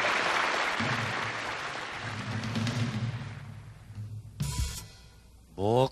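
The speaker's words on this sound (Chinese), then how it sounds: "掌声鼓励。" A stage show audience in a song-hall cabaret claps in a dense burst that fades over a few seconds. Brief music and other noises follow near the end.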